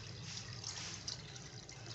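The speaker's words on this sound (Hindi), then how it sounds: "नीम गर्म पानी डालिएगा इसके अंदर और पानी ऊपर तक होना चाहिए" Lukewarm water pours steadily into a bowl of chana dal set to soak, a continuous close splashing trickle with no talk.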